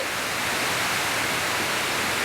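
Loud, constant rushing of a fast-flowing forest stream near a waterfall in Chonburi, Thailand, a dense roar close by with no breaks.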